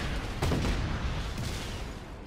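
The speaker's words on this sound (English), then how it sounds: "it created a very bad explosion" A heavy, continuous explosive roar of a vehicle explosion in Just Cause 3, with a couple of sharper bursts, loud and close, fading slightly toward the end.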